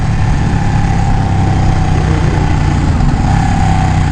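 A Ducati Panigale 1199 sport motorcycle engine idles steadily and loudly nearby, a constant low rumble with no speech or change in pace.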